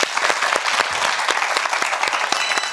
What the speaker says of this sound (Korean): 자, 박수를 청해 보겠습니다.